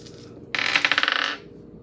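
Dice tumbling briefly across a hard surface, a quick clattering rattle of several close, bright impacts lasting under a second, with no talking.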